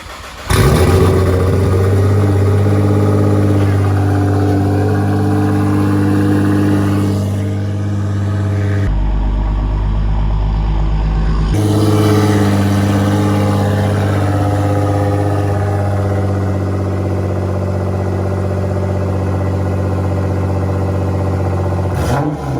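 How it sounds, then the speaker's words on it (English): A Nissan GTR with a catless 4-inch straight pipe exhaust and titanium tips starts for the first time and idles loudly. A deep, steady engine drone dips briefly near the middle, with turbo whine over the rumble. "Lots of turbo noise."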